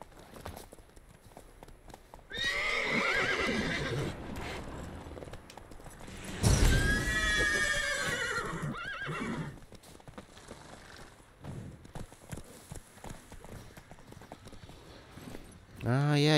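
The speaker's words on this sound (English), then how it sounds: "Bunch of wild horses over there." Wild horses in The Witcher 3 video game, with loud bursts of whinnying and hoof clatter from about two to ten seconds, then quieter hoofbeats, and a person talking over the game audio.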